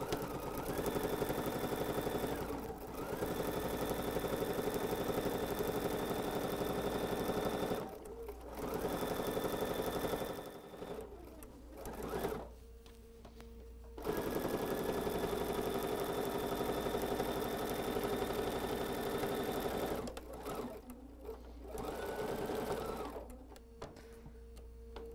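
A sewing machine fitted with a quilting foot stitches fabric for a quilt-as-you-go tote, running in long steady hums that stop briefly several times before starting again.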